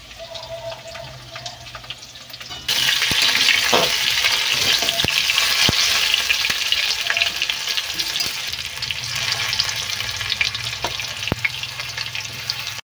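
Chicken pieces with chopped onion and papaya fry in a pan, a loud steady sizzle that jumps up a few seconds in and holds dense and bright, with occasional sharp stirring clicks over it.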